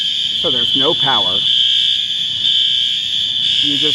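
Alarms sound after Hurricane Milton on the Pinellas County beaches, with the power out: a loud, continuous high-pitched electronic alarm tone holds throughout. Someone talks over it in short bursts.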